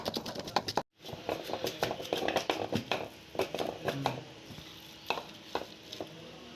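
Cooked chicken for Hyderabadi haleem being pressed and mashed in a pot, a run of soft repeated squelching thumps and scrapes, close and fairly quiet, with a brief silent gap near the start.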